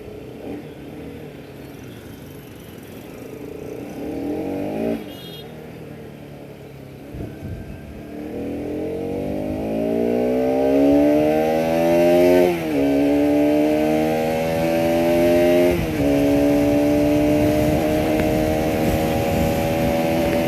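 Bajaj Pulsar RS 200 motorcycle revving through its exhaust, the engine note climbing in repeated rising sweeps, loud and close, with no voices over it.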